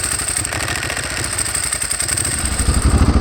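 Ducati 749 motorcycle with a fuel-injected engine and a choke, running near and steady with a clattery, throbbing idle that grows louder and rougher toward the end.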